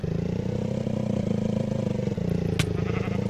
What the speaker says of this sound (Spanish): Vamos a coger la moto.